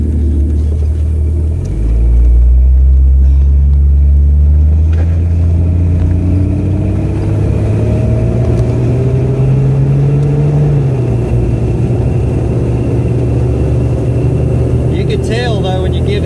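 A car fitted with a 60mm throttle body, on a road test, revs up close and loud, its engine tone climbing steadily through a long pull before levelling off, with a voice speaking over it.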